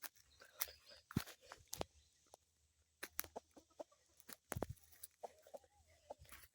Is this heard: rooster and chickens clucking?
yes